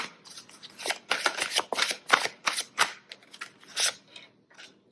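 Oracle cards are shuffled and drawn by hand, giving a quick series of crisp papery riffles and flicks close up, with brief pauses between bursts.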